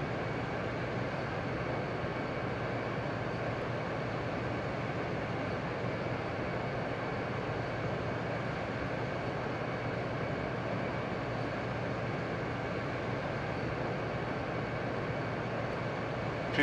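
Boeing 787 landing in the RFS flight simulator game, a steady unbroken engine and airflow roar that holds at a constant level for the whole stretch, with no voices.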